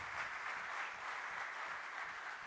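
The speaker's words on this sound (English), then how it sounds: "Give him a round of applause." Audience at a finance forum in Ethiopia applauds the governor, a steady round of clapping from a full room, moderately distant and uninterrupted.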